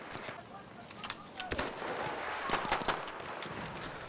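Sniper rifle shots fired in Battlefield 1 during chaotic online combat, several sharp cracks spread across the moment amid dense game noise and other distant gunfire.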